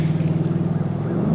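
Subaru STI with a Q300 exhaust idling or running nearby, a loud steady low rumble with rhythmic pulsing and a slight rise in pitch toward the end.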